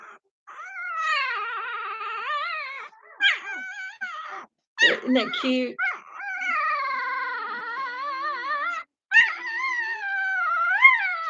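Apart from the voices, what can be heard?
small dog growling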